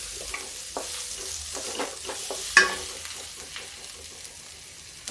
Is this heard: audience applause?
no